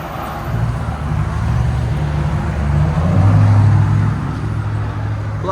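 Audi S4 with a 4.2-litre V8, X-pipe and Black Widow exhaust gives a deep, steady engine rumble that swells slightly midway, close and fairly loud with no talk.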